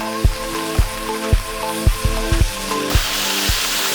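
Butter sizzles steadily in a hot cast iron pan over a Swedish fire torch, a loud continuous frying hiss broken by regular low knocks and thumps, and the hiss swells brighter near the end.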